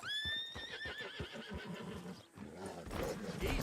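A horse in Red Dead Redemption 2 lets out a close, loud whinny followed by snorting and hoof clip-clops.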